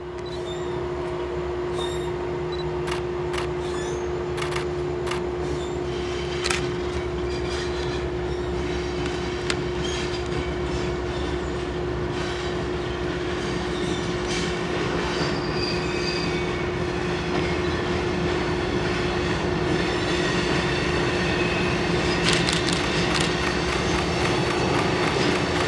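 CSX freight train hauling cars from a fertilizer plant in Tampa, Florida, rolls steadily past while its wheels give a sustained high squeal over a constant rumble, with faint clicking from the rails throughout.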